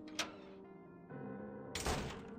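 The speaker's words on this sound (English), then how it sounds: "And then the door opened?" A door opening in the video game Project Ino, a sliding, creaking movement followed by a heavy thunk near the end, set against a quiet, droning ambient background.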